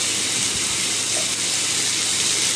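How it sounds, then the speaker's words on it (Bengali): Mushrooms dropped into hot oil in a kadai give a steady, close sizzle and hiss that holds evenly throughout, with no talking. "দিয়ে দেব কেটে ধুয়ে রাখা মাশরুম এবার কড়াইতে দিয়ে দিলাম।"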